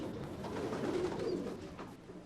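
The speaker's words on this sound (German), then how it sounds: "Renntauben lassen sich daher nur in der vermauerten Stadt unbehelligt züchten." Racing pigeons coo softly in a dense urban setting within the Walled City of Kowloon, with low throaty calls over a constant background hum.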